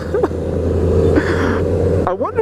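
Honda Grom motorcycle, a 2014 model, held at full throttle, its small engine giving a loud, steady drone throughout with a brief vocal sound near the end.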